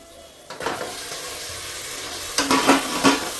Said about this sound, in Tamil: இந்த ஸ்டேஜில் வந்து கறி போட்டுடலாம்